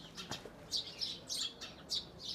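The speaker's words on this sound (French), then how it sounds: "Plein d'oiseaux." Birds chirping and singing from every side outdoors in Pals, Catalonia, a run of bright repeated tweets at moderate distance with no talk.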